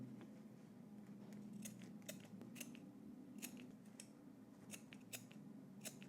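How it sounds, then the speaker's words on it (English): Scissors snip a series of small slashes into a fabric neckline, a string of crisp, quiet individual cuts at an irregular rhythm over a soft low background hum. "take your scissors and cut little slashes"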